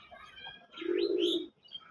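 A sky-blue deshi colouring Golla pigeon coos close by, one low rolling coo swelling in the middle beside softer chirpy notes, with quiet surroundings.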